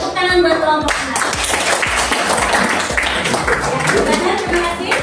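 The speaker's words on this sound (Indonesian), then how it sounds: "Oke, tepuk tangan buat kelompok 6." A classroom group applauds a student presentation with brisk, continuous clapping from many hands, loud and close, with voices mixed in beneath.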